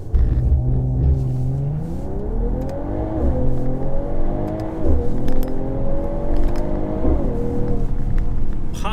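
Audi RS7 sports car accelerating hard, engine rising steadily in pitch then dropping briefly at each gear change from second to third and beyond, loud and close, with no talking.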